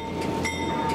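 Train rumbling along tracks through the Niagara wine region in Western New York, a loud, steady rolling roar with a faint high whine, close by and alone.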